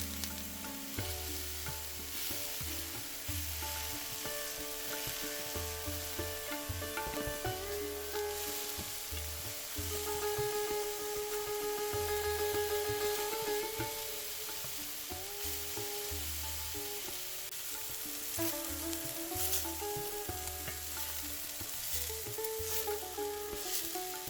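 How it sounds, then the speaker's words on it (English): Chicken pieces for butter chicken sear in a pan with a steady, continuous sizzle and crackle, fairly quiet and unbroken throughout, with no voices. "Try not to crowd the pan when frying the chicken"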